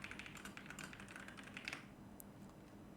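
Quiet rapid keystrokes tap on a computer keyboard as a search is typed, then fade out, leaving near silence with one last faint click.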